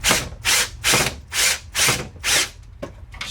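A drill driving 1 1/4 inch fine thread pocket hole screws into joined maple and oak boards: about six short, even whirring bursts in a steady rhythm, close and loud, with no talking.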